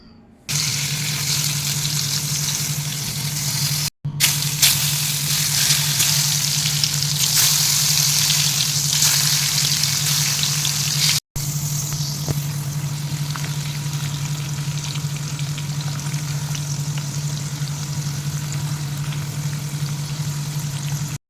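Food frying in a pan during home cooking, a steady close hiss and sizzle with a constant low hum beneath it, running continuously and interrupted only by two brief cuts.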